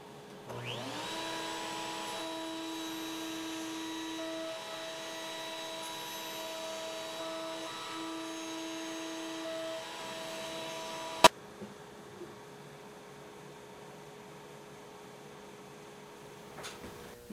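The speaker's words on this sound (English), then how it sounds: "I just need to keep a firm hand on this when I start the router so the piece doesn't catch." Handheld router fitted with a flush-cut bit cutting a mortise in wood for an Arts and Crafts panel bed: a steady, close motor whine runs for about eleven seconds, then cuts off with a sharp click, leaving quiet room noise.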